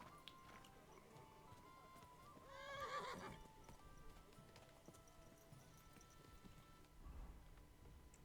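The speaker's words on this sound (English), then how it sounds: "There it is. This is my horse." A horse in Kingdom Come: Deliverance II whinnies once at a middling distance, a short rising neigh over faint ambient game noise, with a soft hoof clop later on.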